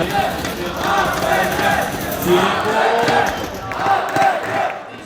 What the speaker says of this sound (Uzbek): Tomoshabinlar o'z jamoalarini baland qo'llab-quvvatlashdi.